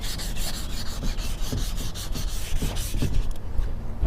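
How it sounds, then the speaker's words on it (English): Sandpaper rubs back and forth over a strut tower brace in a steady, rapid rhythm, close and fairly loud with no talking. "Just sand that off."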